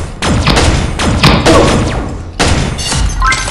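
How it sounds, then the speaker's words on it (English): Shotgun blasts in the mobile shooter Pixel Gun 3D, several loud close booming shots in irregular succession with short pauses between them. "Hey, the shotgun works."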